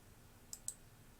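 Two quick, faint computer mouse clicks in close succession against a quiet background with low hum.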